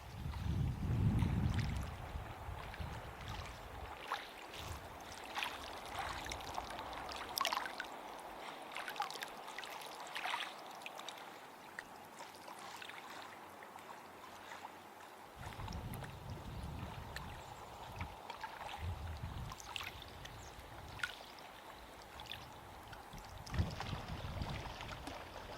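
A motor boat engine drones steadily across a quiet lake bay at Boundary Bay in Waterton Lakes National Park. The motor is moderately distant and fairly soft, with low rumbling swells and faint water washing beneath it.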